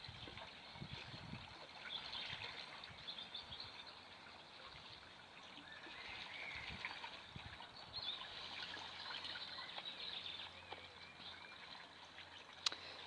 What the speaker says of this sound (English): the filter's kicking in